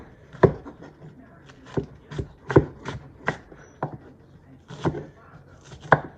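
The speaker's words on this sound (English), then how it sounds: "Just gonna chop that up." Knife strikes a cutting board in irregular, crisp chops through a fresh onion, about a dozen close thuds spaced unevenly, with quiet handling noise between cuts.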